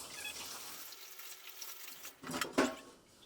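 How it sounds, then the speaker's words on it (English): Water is poured into a beer brewing container, a short splashing pour that swells near the end after a quieter stretch of faint background noise. "Chuck some water in there."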